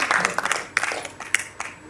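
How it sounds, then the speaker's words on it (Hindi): An audience claps at a sadhvis' conference on women's akhara rights at the Simhastha Kumbh, heard as scattered, uneven bursts of hand-claps rather than sustained applause, with some voices mixed in. "ऐसा ताली बजाइए कि मतलब यहाँ से पूरे देश में इसकी गूंज जानी चाहिए"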